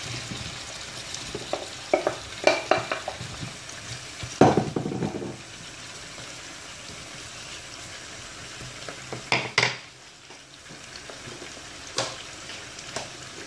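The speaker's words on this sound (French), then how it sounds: "Là, j'ai fait chauffer un petit peu l'huile. J'ai rajouté les oignons. Et maintenant, je rajoute dessus les pommes de terre." Potatoes added onto onions in hot oil for a Spanish potato tortilla, a low background sizzle punctuated by loud clatters and scrapes as the pieces drop in and are stirred, then quieter frying.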